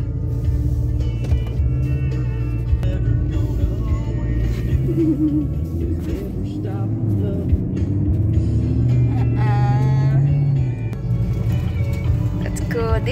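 Low, steady rumble of a sports car engine heard from inside during a ride in Palawan, with people talking over it throughout.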